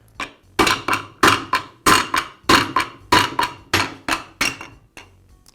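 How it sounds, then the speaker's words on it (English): A rubber mallet strikes about a dozen times in a steady rhythm, knocking the arbor out of a DeWALT chop saw gear case housing set over vise jaws. The blows are loud and close, with nothing else heard. "Then I'll use a rubber mallet to remove the arbor from the housing."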